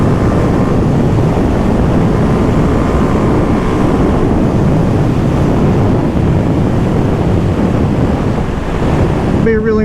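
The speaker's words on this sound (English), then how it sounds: "It'd be a really nice day if it wasn't so windy." Strong wind roars across the microphone on a trail in a constant heavy rumble, loud and unbroken, with a brief clatter at the end.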